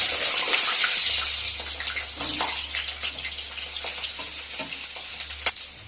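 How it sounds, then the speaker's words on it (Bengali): Cut potatoes go into well-heated oil in a wok, a loud rushing hiss that flares at the start and then settles into a dense steady sizzle with light crackles, no speech. "সেই গরম তেলের মধ্যে দিয়ে দেবো কেটে রাখা আলুগুলো।"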